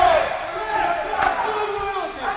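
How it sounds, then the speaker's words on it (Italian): Shouts and cheers rise from both corners at the Popa vs. Raggi boxing match as the trainers urge on their fighters, a mix of raised voices under a commentator's talk, with one sharp thump partway through. "Sentiamo un grande tifo da parte dei due angoli, da parte dei due maestri che incitano i loro"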